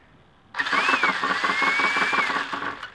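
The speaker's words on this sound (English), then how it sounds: "Turn the vehicle on." A twin-hammer RC vehicle engine starts abruptly and runs at a steady, buzzing, high-revving drone, loud and close, with a faint rhythmic pulsing throughout.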